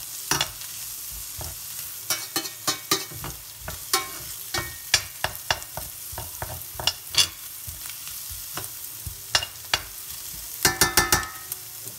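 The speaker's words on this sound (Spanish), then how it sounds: "Voy a poner la cebolla. Voy a cocer un poco la cebolla." Onion frying in a hot pan for Chinese-style fried rice (chaufa), a steady sizzle broken by frequent sharp scrapes and clacks of stirring, close and fairly loud, with no talking.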